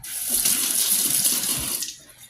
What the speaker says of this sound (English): Give that a quick rinse.